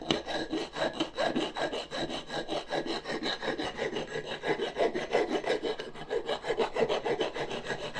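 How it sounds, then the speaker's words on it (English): A hand file rasps along the sharp edges of a cast metal part for a 1/6 scale Armortek Hetzer tank model in quick, steady back-and-forth strokes, close and continuous, with no talking. "So I'm going to just do a bit of filing on this, just to take off those sharp edges."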